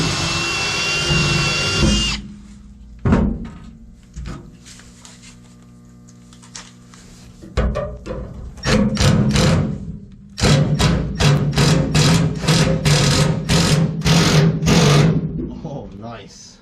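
A power drill drives small sheet metal screws into car body panels in a workshop, with several short whirring bursts and thumps separated by pauses, then a longer run of repeated drill bursts near the end.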